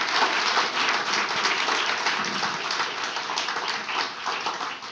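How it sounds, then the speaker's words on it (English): Audience applause for a panel at the close of a design and practice discussion, a dense, steady wash of many hands clapping at even loudness for the full five seconds with no talk over it. "A round of applause for our esteemed panelists."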